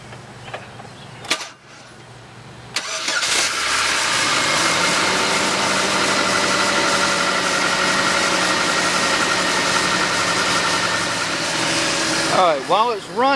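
After a few knocks and a brief crank, a car engine with a freshly filled radiator starts and settles into a steady, moderately loud idle, with some clatter near the end.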